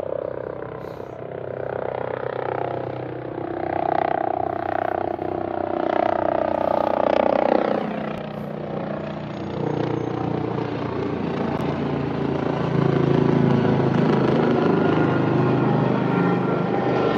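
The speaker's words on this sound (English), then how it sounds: "I hear a helicopter." A helicopter flies over a flooded riverside area near Allegheny General Hospital, probably coming in to land there. It makes a steady, fairly loud rotor and engine drone with a rising and falling tone that lasts the whole stretch. Wind and outdoor ambience sit underneath it.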